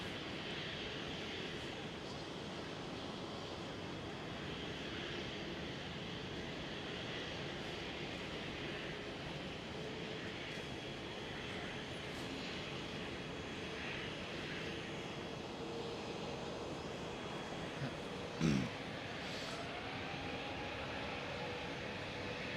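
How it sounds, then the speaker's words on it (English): A KLM Boeing 777-300ER jet airliner passing at Amsterdam Schiphol airport, heard as a steady, continuous broadband engine roar that holds level throughout with no talking over it. "KLM 777-300 ER. With ER standing for extended range."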